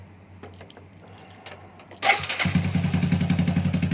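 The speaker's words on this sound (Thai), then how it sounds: "สตาร์ทเครื่องแล้วครับผมนี่ครับ" Motorcycle engine starting after a few seconds of low background hum and faint clicks, cranking briefly then catching into a loud, close, rapid pulsing idle that continues to the end.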